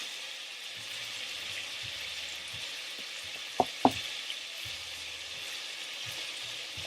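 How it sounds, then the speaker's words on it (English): Oxtail pieces frying in a pan, giving a steady close sizzle throughout with two brief sharp knocks near the middle and a faint low hum underneath, no talk. "So there, We'll fry them on both sides."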